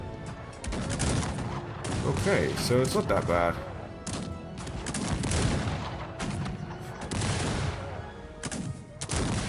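Bursts of gunfire and thudding impacts in the video game Cossacks, repeated shots in clusters, heard under someone talking over the action.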